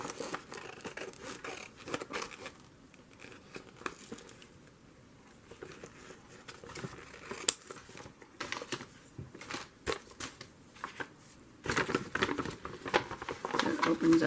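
Scissors snip and crinkle through a paper bag being cut into a journal, with faint, irregular cutting and rustling sounds close by and soft handling noise between.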